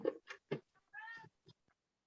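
Several short cat meows in a quick irregular series, close and clear, with a longer drawn-out meow in the middle and softer chirps trailing off in an otherwise quiet room.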